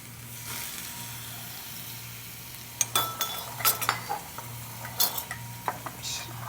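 Mushrooms frying in a pan with a soft continuous sizzle, joined partway through by irregular clinks and scrapes of a spoon stirring against the pan.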